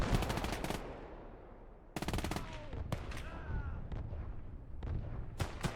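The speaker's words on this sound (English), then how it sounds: "I'm just going to let that artillery shell the crap out of his infantry." Artillery barrage in the WWII strategy game Gates of Hell: Ostfront, including a half-track firing 300mm rockets, pounding infantry: a burst of rapid gunfire and booming blasts up front, then repeated sharp volleys and explosions with whistling shells between them.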